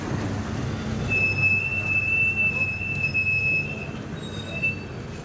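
A metro train rolls through with a steady low rumble and a sustained high, thin wheel squeal that holds for a few seconds before fading, close and fairly loud.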